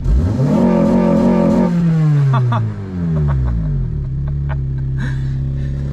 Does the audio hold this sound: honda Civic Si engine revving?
yes